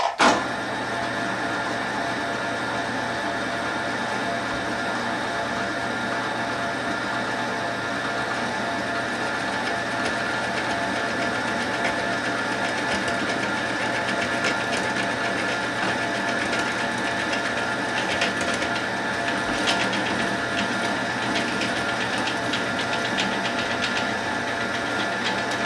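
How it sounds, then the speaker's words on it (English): A drill runs continuously for a long stretch, a steady whirring motor hum grinding through wood with no talking. "drill right through to the other side"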